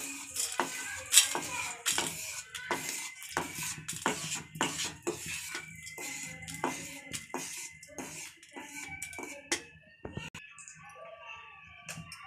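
Golden fried food for kadala curry being lifted out of a pan onto a plate, with a busy run of close metallic clinks and scrapes from utensils, fading out near the end.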